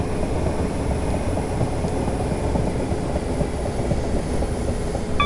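Passenger train in Train Simulator 2018 slowing into a platform on the East Croydon route, a continuous loud rumbling roll with a thin high tone above it, steady to the end with no voices.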